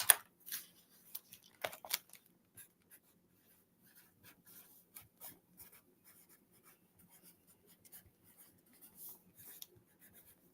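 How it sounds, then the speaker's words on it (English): A small pencil scratches across paper in short, uneven strokes with brief pauses between them, close and quiet in an otherwise still room. "I can write with this little pencil right here."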